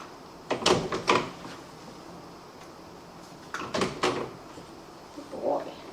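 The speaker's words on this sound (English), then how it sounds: "That you condition the noise of the door" A house door opening and closing during dog training, with two clusters of close knocks and latch clatter separated by a quiet pause, followed by a softer thud.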